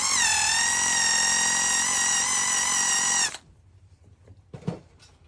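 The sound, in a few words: polisher on Porsche Carrera 911 panel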